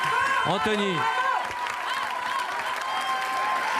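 A TV studio audience on a French Saturday-night variety show applauds steadily, a dense clapping wash that runs the whole time, with a voice singing and speaking over it at the start.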